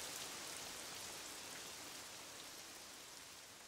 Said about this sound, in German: In den Wäldern und auf den Wiesen haben die Pflanzen den Regen dringend gebraucht.